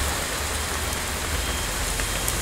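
Heavy monsoon rain pours down near the overflowing Musi river by the Musheerabad RTO office, a dense, constant roar of drops hitting surfaces, loud and unbroken with no talking.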